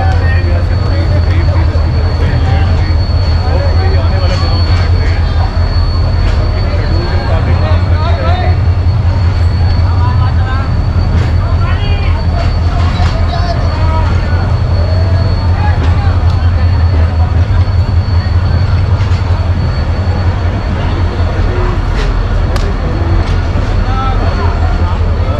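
The Marvi Express train to Tharparkar pulls out of a station with a continuous low rumble and rolling clatter, steady and loud across the whole stretch, while voices and crowd chatter carry over it.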